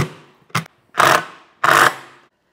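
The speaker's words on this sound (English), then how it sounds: "I'm going into wood, so I'm just going to use a small wood screw on all three of those to hold this up." Power driver sinking small wood screws into wood to mount an EV charger bracket: a short whir, then two longer buzzing bursts, close and loud with silence between.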